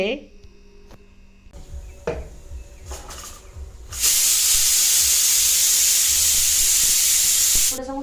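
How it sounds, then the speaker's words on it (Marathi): Pressure cooker with chicken cooking inside lets out a loud, sustained hiss of steam for about four seconds after some earlier clinks and faint voices. "इथे आता हा कुकर शिजतो म्हणजे कुकर नाही शिजत सॉरी चिकन शिजतं"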